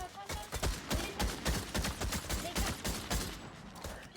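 Rapid bursts of gunfire in the video game Fortnite, dense repeated shots in quick rhythmic volleys, fairly faint, with voices talking at times.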